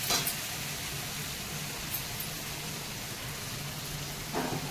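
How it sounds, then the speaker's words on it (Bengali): Hot water poured into a pan of sizzling pea ghugni curry gives a steady, close hissing sizzle that holds evenly with no speech, and it picks up slightly near the end. "এই কষানো হয়ে গেছে। এবারে আমি গরম জল দেবো।"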